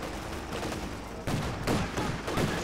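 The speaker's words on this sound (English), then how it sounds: "the paratroop is just getting absolutely pasted here with auto cannon rounds" Autocannon rounds hammer paratroopers in the WWII strategy game Company of Heroes 2, a dense, continuous barrage of rapid booming shots with bursts of impacts, loud and unbroken.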